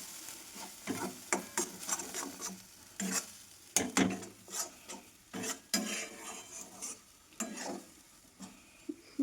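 A spatula scrapes and rasps through a kachori filling of peas and sattu in a pan, in short irregular strokes with pauses between them, close up and without speech.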